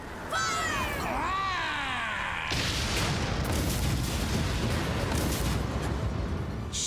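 Ship cannons fire in a pirate video game, a run of booming blasts and rumbling barrage that starts after a brief stretch of game sound effects and keeps up loud and dense throughout.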